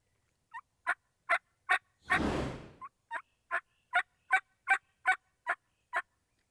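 A mouth call imitates a turkey yelp: a steady, rhythmic series of short, clear yelping notes, broken once by a breathy rushing burst.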